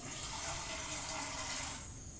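Water pours steadily into a vessel, a close, rushing splash that tapers off near the end.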